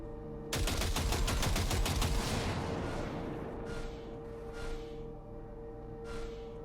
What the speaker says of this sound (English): Shoot the target using the turret.